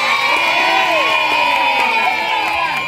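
A group of children shouting and cheering during a tepuk masyarakat chant: loud, close overlapping young voices with sustained calls and whoops, filling the whole few seconds with little distinct clapping.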